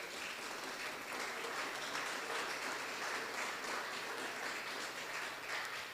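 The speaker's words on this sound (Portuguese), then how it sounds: "Vamos aplaudir o Senhor Jesus?" A church congregation applauding together, a steady even wash of clapping that holds at moderate level throughout without pause.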